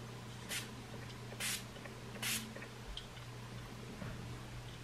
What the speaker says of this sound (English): like bathing your face in liquid, setting spray. Setting spray.